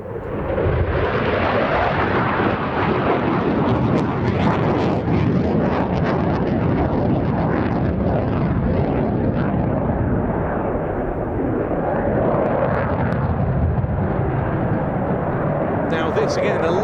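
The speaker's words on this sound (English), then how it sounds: "the Finnish Air Force's A-18C Hornet brought some very impressive manoeuvring at extremely high" A Finnish Air Force F/A-18C Hornet jet performs a high angle-of-attack flying display at the Royal International Air Tattoo, its loud, continuous roar filling the air, with a commentator's voice running over it.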